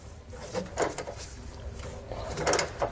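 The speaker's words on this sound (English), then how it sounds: "15 millimeter ratcheting wrench is what I'm using here" A 15 mm ratcheting wrench loosening a nut while fitting Firestone Ride-Rite air helper springs on a 2016 truck, heard as several short bursts of rapid ratchet clicks close by, separated by brief pauses.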